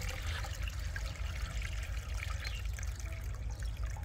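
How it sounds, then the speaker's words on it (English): Fermented homemade liquid fertilizer is strained through a fine mesh sieve or cloth, giving a steady, soft trickle and dribble of liquid that runs continuously and close, with no talking. "Strain the liquid through a fine mesh sieve or cloth to remove solid particles."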